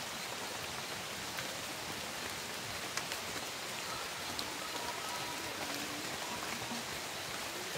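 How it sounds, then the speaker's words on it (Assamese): Steady rain falls in a forest at night, a dense, even patter that stays close and constant throughout, with no voices. "এতিয়া বৰষুণ দি আছে"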